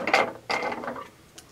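Scissors snip through a 100% cotton rope, two short crisp cuts close by followed by faint rustling, no talking.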